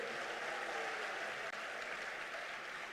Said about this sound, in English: A clap for the president.